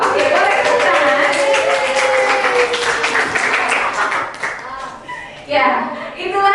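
Students in a high school classroom clap together for the most active group, brisk dense handclaps under children's voices, tapering and briefly swelling again near the end.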